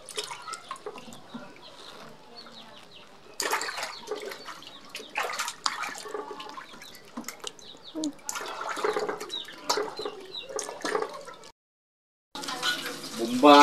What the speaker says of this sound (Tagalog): Bomba ng tubig.